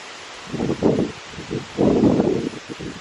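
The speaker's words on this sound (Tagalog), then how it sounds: "lakas ng hangin." Strong gusts after a typhoon rustle through leaves in two loud surges with a quieter lull between, the rustling swelling and fading; no voices.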